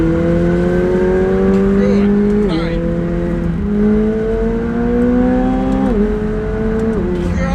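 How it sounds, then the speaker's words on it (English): A high-revving sports car engine winds up and drops repeatedly, its pitch climbing through gears, loud and close, with a voice talking over part of it. "Just listen to this engine."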